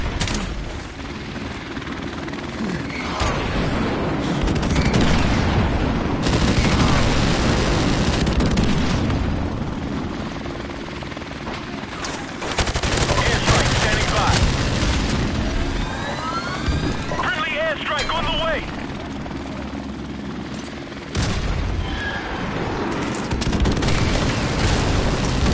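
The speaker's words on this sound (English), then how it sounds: "Friendly airstrike on the way." A friendly airstrike in a military video game: a loud helicopter drones overhead while booming explosions and bursts of gunfire erupt, with voices speaking over the combat.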